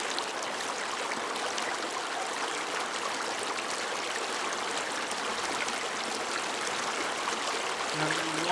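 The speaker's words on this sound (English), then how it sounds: "Now the water's running." Water runs steadily as a broad, continuous rushing and trickling wash, close and even in level throughout, with no voices.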